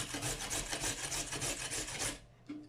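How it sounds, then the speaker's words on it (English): A carrot is rubbed against a grater in a run of steady, rasping back-and-forth strokes for about two seconds. The scraping is close and loud, then it stops and one short scrape follows. "I'm just grating the carrot."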